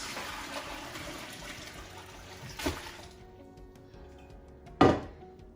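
Chicken bone broth pours steadily through a strainer into a pot, splashing for a few seconds, then stops; two brief clanks of metal ring out, the second louder.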